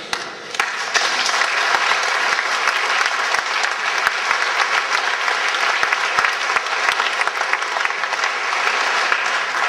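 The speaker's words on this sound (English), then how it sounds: "We want to applaud all of you who've done so much to make this weekend happen." Sustained, steady applause from a seated audience at a school centennial reunion program, dense clapping filling the room throughout at an even loudness.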